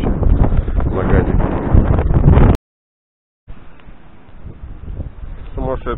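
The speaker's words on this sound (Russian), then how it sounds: "Сумасшедший ветер." Strong, gusty wind buffets the microphone on a stormy Amur riverbank, a loud broadband roar that cuts out abruptly for about a second, then returns slightly weaker and rising toward the end.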